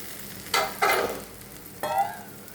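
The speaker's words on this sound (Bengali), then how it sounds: "মশলাটা ভালো করে ভাজা হয়ে গেছে, তো আমি এখন এখানে আলুগুলো দিয়ে দেব" Potatoes drop into spice paste frying in a pan for a Bengali potato curry, giving two short loud bursts of sizzle and stirring, then a third brief sizzle a moment later, near and with no talking.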